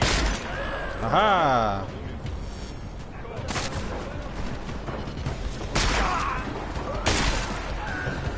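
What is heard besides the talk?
shotgun firing in Deus Ex video game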